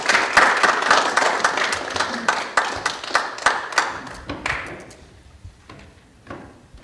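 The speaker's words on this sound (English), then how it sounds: "Johnson a round of applause." Applause at a talk on Norwegian culture and television exporting through Netflix, as an audience greets a guest lecturer: a burst of close clapping that thins into scattered claps and fades within about five seconds.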